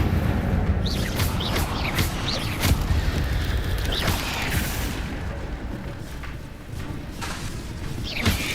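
Incendio fire spell being cast in the video game Hogwarts Legacy: repeated whooshing flame bursts and crackling impacts over a steady rumble, several distinct hits spread across the stretch, with no voice.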